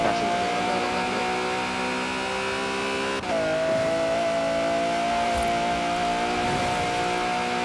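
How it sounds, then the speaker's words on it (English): A sports car engine in the Forza Horizon 4 racing game revs loudly and steadily, its tone blending a Ferrari Enzo and a LaFerrari, with a brief drop and shift in pitch midway before the high, sustained roar resumes. "It's a kind of cross between the Ferrari Enzo, how it should sound, and the LaFerrari put together."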